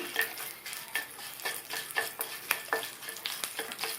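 Slit green chillies and lentils sauté in a pan for ridge gourd chutney, a continuous sizzle broken by regular scraping strokes of a spoon about twice a second, close and clear, with no speech.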